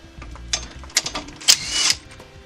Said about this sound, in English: grab a 14mm socket for your ratchet and a light. Remove the 14mm on this bracket.